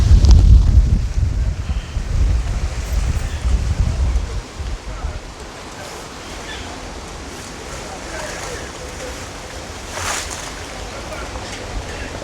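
Wind buffets the microphone with a heavy low rumble at first, then eases into a softer, steady rushing hiss, outdoors while picking star apples in Mandeville.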